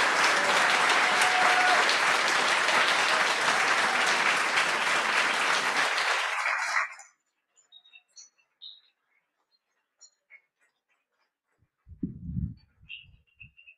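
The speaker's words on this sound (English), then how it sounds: "One more big round of applause for both readers." An audience at a literary reading by Jackie Wang and Eileen Myles claps loudly and steadily for about seven seconds, then the applause stops abruptly, leaving near silence broken by faint chirps and a brief low thump.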